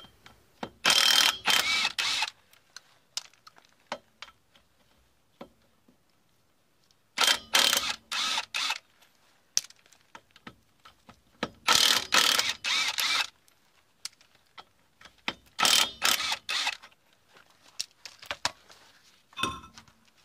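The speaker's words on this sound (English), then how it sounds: "I'm going to use an impact gun because I've got one" An impact gun rattles off the wheel nuts of a 2005 Ford Transit Connect in several loud bursts of hammering, with quiet gaps between them and no talk.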